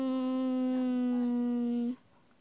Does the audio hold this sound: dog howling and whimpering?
yes